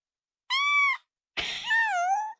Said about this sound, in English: It's meowing.